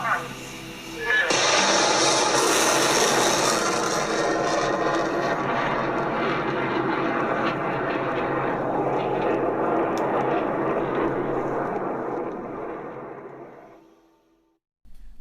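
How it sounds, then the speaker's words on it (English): Launch of a MAPHEUS scientific sounding rocket: a loud, broad roar bursts in after a moment, holds steady for about ten seconds, then fades away into the distance. "What you just heard was the launch of a rocket"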